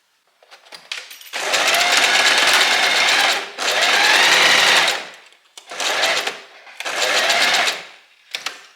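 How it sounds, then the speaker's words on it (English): Home sewing machine stitching a dart line on wrap dress fabric, running in four loud steady bursts separated by brief pauses, close and alone without talk. "we're gonna sew a line from here where the notch is to where the needle is"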